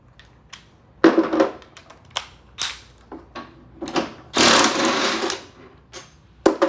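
A power tool drives a chrome bolt with a 9/16 socket on a Honda Shadow custom bobber motorcycle build, giving short, sharp ratcheting bursts spaced apart, then one longer whirring run, close and loud.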